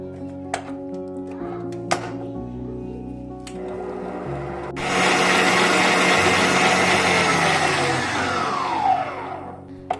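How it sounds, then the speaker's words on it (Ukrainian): A few clinks and light handling, then an electric mixer whirs on loudly whipping 200 grams of cream and runs steadily, its pitch gradually dropping toward the end. "Беремо 200 грам сливок, збиваємо."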